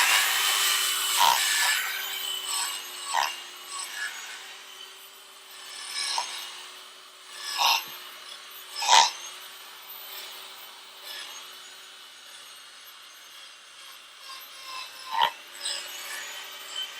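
Dry brush agitation on concert hall seat upholstery: scratchy bristle strokes rasp across the fabric in uneven bursts, some sharper scrubs standing out, with a faint steady hum underneath and no talking.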